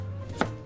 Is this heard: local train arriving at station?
no